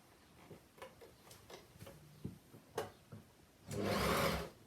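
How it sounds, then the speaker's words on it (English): An overlocker sews the top edge of a children's leggings waistband, heard as scattered soft ticks and taps followed by a short, loud whirring burst of stitching near the end. "I'm just going to overlock around the top edge of the"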